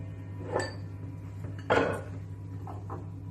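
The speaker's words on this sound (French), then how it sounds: "Je vais le démouler" A hot bowl cake comes out of its bowl: two distinct clinks of the bowl and utensil, with a faint background hum and softer knocks afterward.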